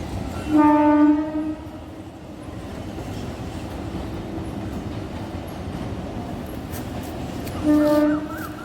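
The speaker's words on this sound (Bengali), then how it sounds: "ট্রেন যাচ্ছে, পাখির ডাক" A train passes by, its horn sounding in two blasts at the start and near the end, with a steady rumbling roll of the wagons filling the gap between them.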